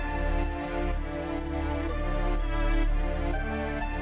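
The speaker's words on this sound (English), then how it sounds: "It's almost like a guitar sound" A harsh, buzzy Mellotron synth preset resembling a plucked guitar, playing a simple repeating melodic pattern with dense overtones, steady and fairly loud.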